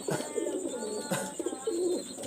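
Pakistani high flyer pigeons coo close by in a series of soft, throaty rolling calls, with faint twittering and background noise around them.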